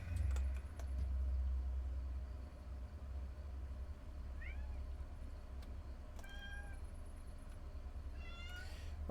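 A house cat meows several times in short rising calls partway through, fairly close but quiet, over a low steady rumble and faint background noise.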